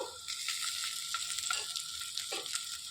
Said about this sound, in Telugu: ఇందులోనికి ఉడికించి పెట్టుకున్న ఎగ్స్ కూడా వేసుకొని వేయించుకోవాలి